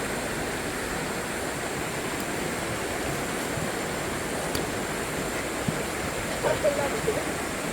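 Steady, broadband rushing of a river current in a rural province, constant and full throughout, with a brief faint voice near the end.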